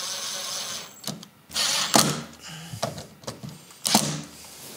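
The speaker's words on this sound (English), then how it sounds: "Now I'm just going to tighten these bolts." Bolts being tightened with a hand tool in short bursts of clicking ratchet strokes separated by pauses, close by and moderately loud.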